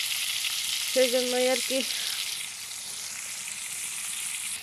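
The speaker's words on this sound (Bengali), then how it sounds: "এখানে আমার মাছগুলো ভাজা হোক" Fish frying in a pan gives a steady, bright hiss and sizzle throughout, with a brief spoken phrase early on over the crackle.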